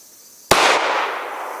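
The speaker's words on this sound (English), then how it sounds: "let's shoot down here with live fire and see what we got" A single sharp, loud gunshot from a Ruger LC9 pistol during live fire at a range, a sudden crack followed by a decaying reverberant tail.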